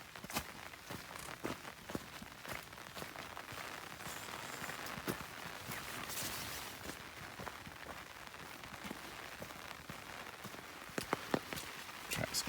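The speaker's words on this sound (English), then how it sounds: "It's raining." Steady rain patters on an umbrella during a hike on a still, humid day, a continuous close crackle of drops with scattered sharper taps and occasional footsteps on a muddy trail.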